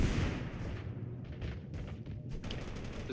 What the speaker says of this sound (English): There's gunfire over here to my right.